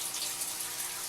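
Continuous bright splashing and bubbling of water in an aerated betta fish tank kept warm at around 80 degrees, a steady close hiss with no pauses.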